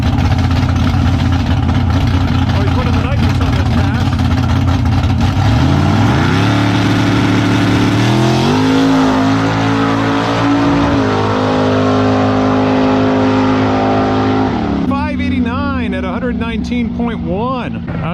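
Nitrous-fed Chevy Nova drag car at the strip, loud engine roaring and rising in pitch as it launches and pulls away, a continuous powerful rumble that shifts through gears before fading.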